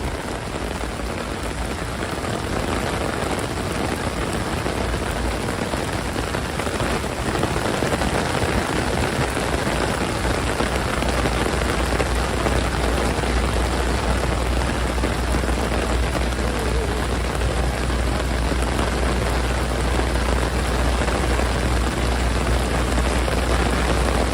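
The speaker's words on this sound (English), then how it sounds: "I'm actually so happy that it's pouring raining right now." Heavy rain pours over New York City's Billionaires' Row, a dense, unbroken hiss of drops hitting streets and surfaces, steady and loud from start to finish.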